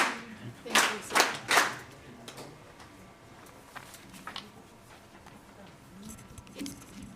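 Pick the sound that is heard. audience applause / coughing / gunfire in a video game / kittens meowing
audience applause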